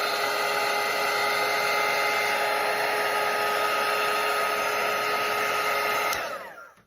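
A hair dryer blows steadily on watercolour paint, a loud continuous whirring hum held for several seconds before it is switched off and winds down.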